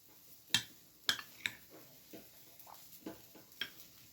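A spoon scrapes and clicks against a bowl while a thick oat pancake batter is stirred, giving several sharp taps at uneven intervals, close and fairly quiet.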